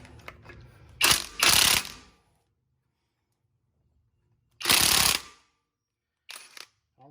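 Ratchet wrench working the 5/8 hub assembly nuts with tab washers on the front end of a 1976 Chevy K10/K20 truck, heard as several bursts of close, rapid clicking separated by quiet pauses.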